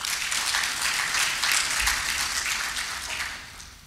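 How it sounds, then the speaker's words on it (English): A conference audience at a health sector strategy review meeting gives a round of applause: a soft, even wash of many hands clapping that holds steady, then thins and fades toward the end. "So let us have a round of applause for that."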